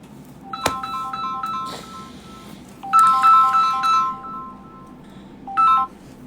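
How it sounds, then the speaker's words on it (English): A mobile phone rings with an incoming call, its melodic electronic ringtone playing in short tonal bursts separated by pauses, clear and close. "Who this a call my phone?"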